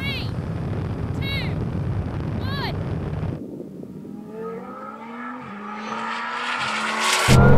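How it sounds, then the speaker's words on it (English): A Bugatti Chiron Super Sport and a 1600-horsepower Lamborghini Huracan accelerate hard in a rolling drag race from about 40 mph in second gear, engine tones rising steadily through gears amid wind rush, with speech early on. "Now we're going to do a rolling race from around 40 miles an hour in second gear."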